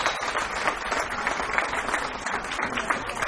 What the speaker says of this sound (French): une grosse salve d'applaudissements à l'intention de ces tout-petits